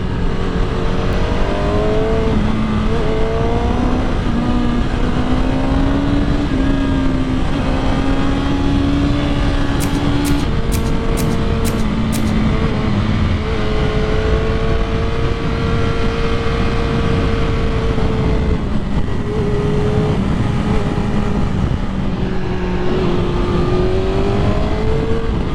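A BMW S1000RR superbike with a Brentune tune revs and accelerates hard, its loud engine note climbing and falling through gears for a long stretch, close and constant with no talking.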